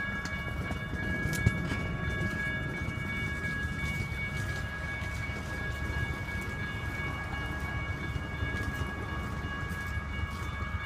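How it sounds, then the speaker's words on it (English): Train arriving at the Flagstaff station before dawn, a steady rumbling wash of noise with a sustained tonal whine above it, constant and moderately loud throughout. "Look, it's the train."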